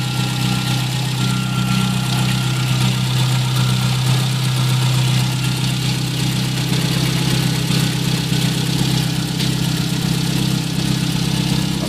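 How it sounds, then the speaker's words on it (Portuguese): Volkswagen Gol 1.0 8v engine idling with tappet noise, a loud close steady rumble carrying a fast, even ticking clatter throughout, with no voices. "barulho de tucho aí pela parte da manhã, da hora que liga"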